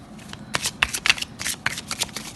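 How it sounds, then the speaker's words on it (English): Angel therapy oracle cards are shuffled by hand, a quick run of crisp riffling flutters and soft slaps, close and alone. "Let's pull some angel cards, some angel therapy cards."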